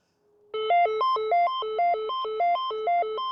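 Call alert tone from a DeWalt IP67 two-way radio, a loud close electronic melody of rapidly alternating beeps repeating steadily for about three seconds, with no talking.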